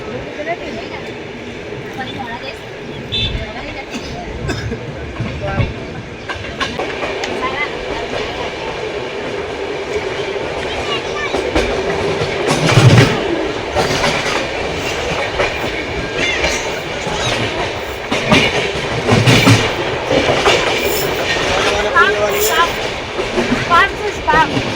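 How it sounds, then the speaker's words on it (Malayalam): Rumble and rhythmic clatter inside a moving Sarvodaya superfast express sleeper coach, departing Jalandhar Cantonment Junction, a steady, continuous rattle of wheels and car body with intermittent louder knocks, and voices under the noise. "ജലന്ധർ കണ്ടോൺമെന്റ് ജംഗ്ഷനിൽ ട്രെയിൻ ഡിപ്പാർട്ട് ചെയ്തിട്ടാ"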